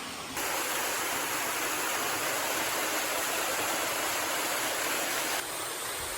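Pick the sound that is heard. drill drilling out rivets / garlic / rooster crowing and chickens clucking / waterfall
waterfall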